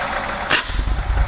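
A 1990 Volkswagen Vanagon engine running close by with its exhaust blocked lets out a sharp hiss midway, then chugs and rumbles low and uneven as it stalls.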